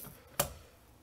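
A single sharp click from a Kidde B5 fire alarm pull station as a test tool is turned, brief and close against a quiet background.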